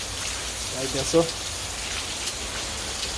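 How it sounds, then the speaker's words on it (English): Steady rain in Jamaica patters all around at an even volume while a voice speaks briefly over it. "Raining on the outside."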